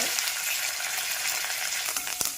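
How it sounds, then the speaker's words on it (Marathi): Whole spices for a tadka, fenugreek seeds, dried red chillies, curry leaves and asafoetida with urad dal, fry in hot oil with a steady bright crackling sizzle and a few sharper pops, close by with no talk. "तडका आपला हा छान तयार झालेला आहे"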